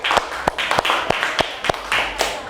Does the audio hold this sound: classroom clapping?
yes